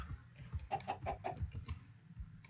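A chicken in a video game clucks several times in a short, uneven burst, close and moderately loud over faint background game sounds.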